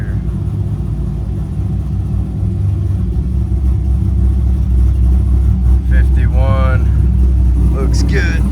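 A C5 Corvette engine cranks and then runs, a steady low rumble filling the whole stretch, with a few brief squeaky whistling tones near the end over the idle.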